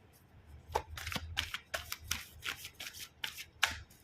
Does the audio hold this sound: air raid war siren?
no